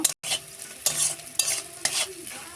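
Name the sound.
stirring onions frying in pan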